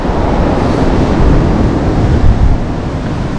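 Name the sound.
large sea waves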